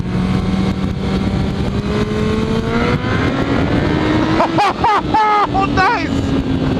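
A Kawasaki Ninja ZX14R motorcycle engine rises in pitch, roaring steadily as it accelerates out of a corner, with wind rumble throughout and a few brief vocal exclamations near the end.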